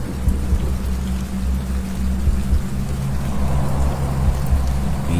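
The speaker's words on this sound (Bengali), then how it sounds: "হঠাৎ মেঘ গর্জে উঠল, প্রবল বৃষ্টি নামল।" Heavy cartoon rainstorm: a dense, steady roar of pouring rain with a low rumble underneath, loud and unbroken throughout, with no voices.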